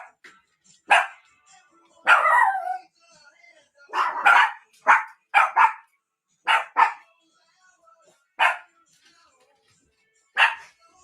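Dogs bark in short, separate bursts, about a dozen sharp barks spaced over several seconds with quiet gaps, moderately close and alone.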